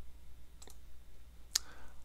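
A single sharp, brief mouse click on a computer running Elementary OS 5.0, near and distinct, with a fainter click about a second earlier against quiet room hiss.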